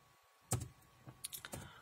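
Someone types a short command on a computer keyboard, a quick cluster of a few close, crisp key clicks after a brief pause, with no talking.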